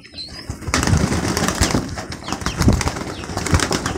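An Indian fantail pigeon flaps its wings loudly and close up as it jumps onto a person, a burst of rapid wingbeats followed by continued fluttering and shuffling.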